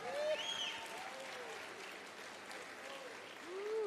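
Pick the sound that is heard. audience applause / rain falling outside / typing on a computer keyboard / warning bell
audience applause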